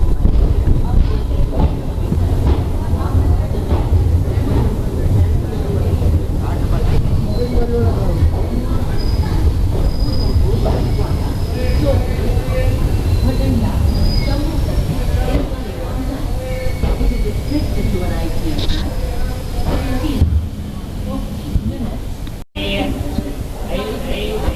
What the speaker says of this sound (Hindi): अपनी ट्रेन अपने टाइम से 11 मिनट पहले ही जोधपुर जंक्शन पर पहुंच गई है